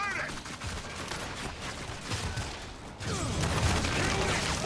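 Gunfire from a video game, heard as dense, continuous rattling bursts like a sustained volley, fairly loud and steady throughout, with the mix thickening after the midpoint and game noise layered underneath.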